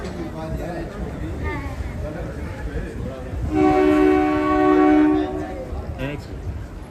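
Horn of the Kalka–Shimla toy train sounding as it prepares to depart the station, one sustained loud blast of about a second and a half heard over ongoing talk and platform noise.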